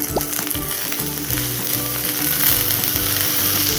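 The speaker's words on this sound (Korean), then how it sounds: "다 구워져서 이게 물이 들어가니까 이게 지직한다니까" Food sizzles and crackles loudly in a hot pan as water hits it, a steady hiss with sharp pops throughout, close and continuous.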